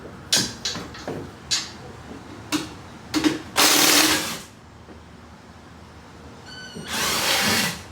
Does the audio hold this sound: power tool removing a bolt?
yes